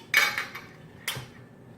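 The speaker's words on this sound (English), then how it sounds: "We put on our lid." A plastic or metal lid set onto a container of fermenting sauerkraut, heard as two sharp clattering knocks about a second apart, close and fairly quiet, with a few lighter rattles after the first.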